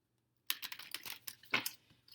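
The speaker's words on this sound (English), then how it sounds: "gotta give the cards a quick shuffle" Tarot cards shuffled by hand in quick bursts of crisp riffling and slapping, close up and fairly soft, with no talking.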